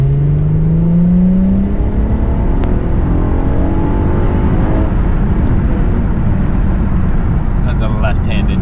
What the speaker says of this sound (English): That was to the floor in second gear.